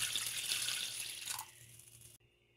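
Boiled vinegar is poured into a pot for cleaning acrylic paint brushes, a steady splashing trickle that tapers off and stops near the end.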